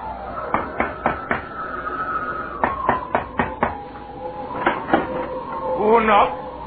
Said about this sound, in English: Who knocked?